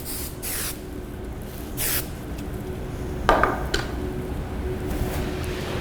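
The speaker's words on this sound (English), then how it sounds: "Alrighty, we're gonna do a little spraying." Hairspray is sprayed over a soft curly bridal bun in several short close hissing bursts separated by pauses, with no talking.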